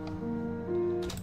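A sustained synth piano layer from Omnisphere, the main sound of a hip-hop beat's piano loop, holds steady tones alone for about a second before a brighter burst enters at the end.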